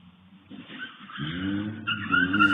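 A car engine revs up and accelerates with a rising whine, tires squealing faintly as it picks up speed nearby.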